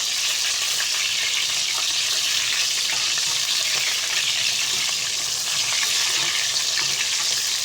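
Eggplant slices fry in a pan of hot oil with a steady, dense sizzle and crackle that runs unbroken and fairly close throughout, with no voices.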